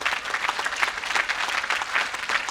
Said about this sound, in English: they deserve your applause too